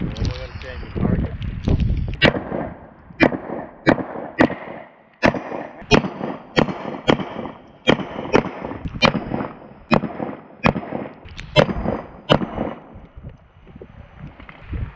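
Pistols fire during a shooting range class, about twenty sharp, loud cracks in an irregular series, some in quick pairs, with talking underneath at the start.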